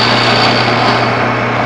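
A wood-turning lathe spinning a small scrap of ebony for a box knob as a skew chisel cuts it, a loud, steady motor hum with a continuous close shaving hiss.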